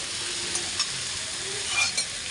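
Mutton curry sautéing in a pan with a splash of mutton stock, a dense continuous sizzle with a few soft stirring scrapes, close up and with no talking.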